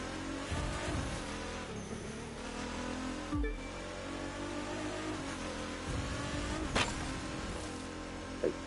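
Continuous engine roar from a car driving in the racing game The Crew 2, revving and shifting with brief tire noise and passing whooshes, loud and steady throughout with no talking.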